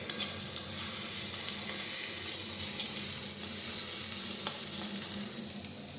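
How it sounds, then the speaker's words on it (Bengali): Potato and tomato pieces fry in hot oil with black cumin in a pan, a loud continuous close sizzle with faint stirring scrapes and no talking. "আলুটা টমেটোটা একটু ভেজে নেবো"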